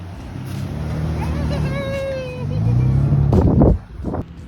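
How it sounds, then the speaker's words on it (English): A Toyota with 220,000 miles drives off-road over sand dunes, its engine droning and rising in pitch as it revs, then a loud surge and abrupt drop near the end, with a voice briefly heard. "Let me show you a little clip of me driving around on some dunes."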